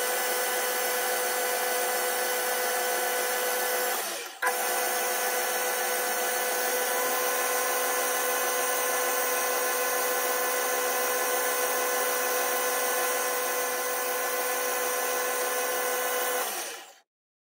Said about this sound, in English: Now to drill the wick hole, doing this in two stages,